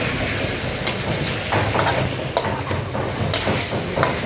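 Thai holy basil (kaprao) stir-fry is stirred and scraped in a hot wok with a little oil, with crackling sizzle and repeated metallic scrapes of a utensil over a steady frying hiss.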